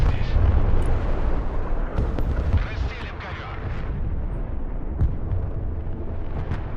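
Bombing-run explosions in the video game Broken Arrow, with deep rolling booms and heavy low rumble, loudest at the start and then settling into a continuous thundering roar.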